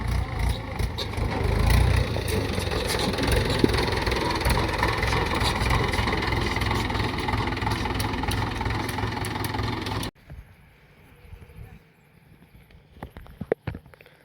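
A tractor engine idles with a loud, steady rumble for about ten seconds, then cuts off abruptly, leaving quiet background with a few faint knocks.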